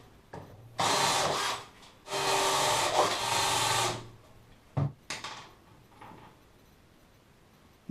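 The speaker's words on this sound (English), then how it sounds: "Upgrade to a bigger bit. Now the chamfering bit." Power drill spinning a chamfering bit into a Pontiac G8 GT spoiler, two sustained close whirring runs of a few seconds each, followed by brief scraping bits and quiet.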